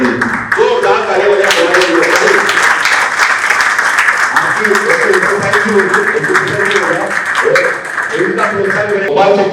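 Steady, loud audience applause at an expert panel on housing society redevelopment, dense clapping that continues for several seconds with a few voices faintly underneath.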